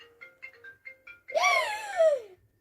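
A phone rings at home, a short melodic ringtone whose run of soft tones builds into a louder, sweeping chime that dies away, with no talking over it.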